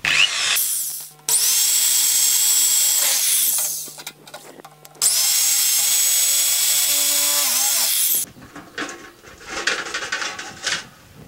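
A power tool cutting open the sealed casing of a fridge stabilizer, two long loud whining runs with a brief stop between, followed by rattling and clattering as the machine winds down.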